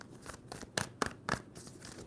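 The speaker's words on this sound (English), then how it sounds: "Two more shuffles." A deck of tarot cards is shuffled by hand in a few quick riffling bursts, crisp papery snaps close to the microphone.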